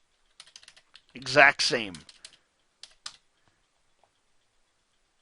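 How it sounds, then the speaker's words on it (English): Light, quick clicks of typing on a computer keyboard, heard close, come in short bursts around a brief spoken phrase. "we're just going to type it in"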